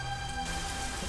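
Steady rain pours in a Hindi film scene, a dense, even hiss filling the whole moment without a break.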